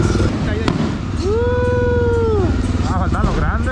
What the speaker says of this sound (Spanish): ahí están trabajando los cohetes